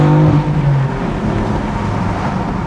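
A 2020 BMW M4 with a manual gearbox has a loud exhaust that rises in pitch through a gear, drops at the shift, then settles into a steady drone. The sound is close and constant, with no talking over it.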